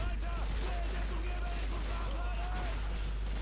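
Rapid gunfire and battle noise in the World War II shooter Call of Duty 2, a loud continuous din with a deep rumble underneath, while a player talks excitedly over it.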